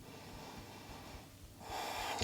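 Breath held in a yoga half bow pose, a quiet airy intake followed by a stronger, hissing exhale near the end, close and soft with no talking.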